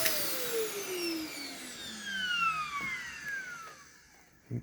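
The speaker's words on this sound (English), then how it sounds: "Motor wind down's a little rough" Navigator Plus vacuum cleaner motor winding down after running, a high whine that falls steadily in pitch over a few seconds and fades, heard close with no talk.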